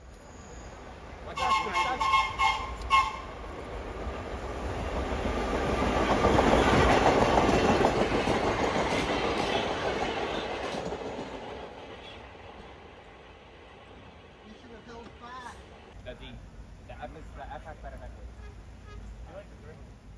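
A New York City subway train rumbles past nearby during a subway train parade, swelling to a loud roar midway and fading, with rail clatter and a faint squeal near the start.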